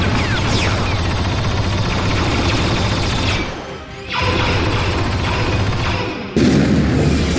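Dense, continuous barrage of loud laser cannon blasts and crashing booms from an emplacement strafing troops below, with a brief lull midway, then another burst of heavy fire.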